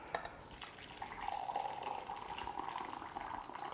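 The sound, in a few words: pouring boiling water from kettle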